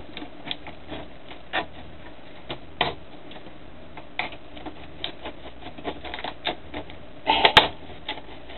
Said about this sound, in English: I'm going to cut these open and we'll test them, make sure they all work.